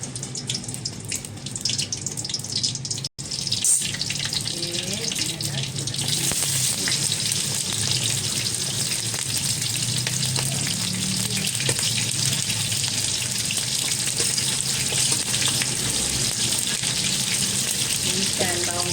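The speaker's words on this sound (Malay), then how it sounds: "Okey, saya nak tumis bawang ni." Onions sautéing in a hot wok while cooking black pepper beef, a steady loud sizzle and hiss running throughout after a brief clatter near the start.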